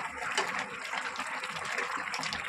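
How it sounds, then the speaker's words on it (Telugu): Chicken curry boils hard over a high flame, a continuous bubbling, hissing simmer at close range with no voices. "ఇప్పుడు మంచిగా ఉడుకుతుంది కదా"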